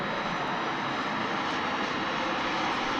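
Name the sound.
American Airlines Airbus A319 jet airliner landing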